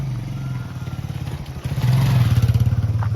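A motorcycle rides along a rural route on the way to a high school; the engine chugs in a low rhythmic drone that grows louder and steadier partway through, up close with no talk.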